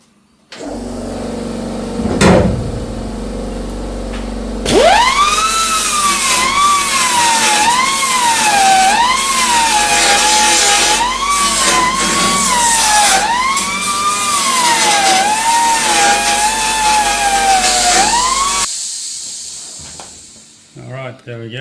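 A power sander cleaning up spot welds on an HQ GTS coupe cowl during a rebuild: a steady, whining high-pitched grind with wavering pitch as it bears down, loud and close, running for about fourteen seconds before cutting off.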